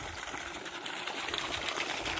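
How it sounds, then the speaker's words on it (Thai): Water gushes from the 2-inch outlet pipe of a solar-powered pump drawing from a deep water level, a steady broadband rushing splash heard close and fairly loud throughout, with no voices. "น้ำไหลเต็มท่อพุ่งนะครับเต็มท่อออก2นิ้วนะครับ"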